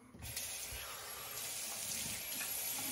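A bathroom tap runs steadily to wet a face before a shave, a close, continuous splashing rush of water that starts abruptly and holds level throughout.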